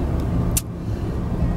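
Car engine drone from inside a vehicle as a truck pulls out in front, steady low road noise with a brief hissing burst partway through.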